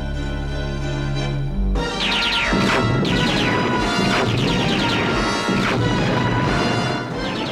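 Animated Transformers battle scene with Decepticon weapon fire: a sudden loud crash hits at about two seconds, followed by repeated laser-like zaps and blasts over a dense, continuous din of explosions and impacts.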